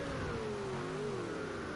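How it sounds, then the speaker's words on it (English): GT3 race car engines scream down a straight at the Hockenheim circuit, a loud, sustained high-revving roar with the pitch sliding slightly as the car passes, filling the whole moment without pause. "GT3 engines absolutely screaming their heads off down these straights."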